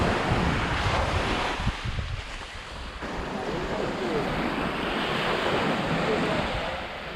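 Surf at Marari Beach in Kerala rushes and breaks continuously, mixed with heavy wind buffeting the microphone and giving a broad, roaring wash throughout.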